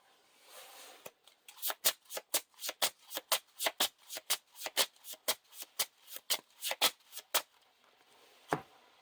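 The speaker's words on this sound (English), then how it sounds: "now we're going to shuffle this back into the deck" Playing cards for The Lord of the Rings card game riffled in a rapid burst of about two dozen crisp, evenly spaced flutters, close and clear, followed by a single soft tap.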